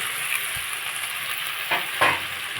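Potatoes and long beans fry with kundri in a pan, giving a steady close sizzle with a few clinks of a spatula stirring against the metal.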